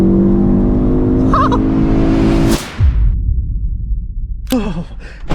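A tuned Ford Focus RS launches at full throttle from about 2,500 rpm, the engine roaring up through its revs before a sharp shift, followed by a lower rumble and a brief exclamation from inside the car.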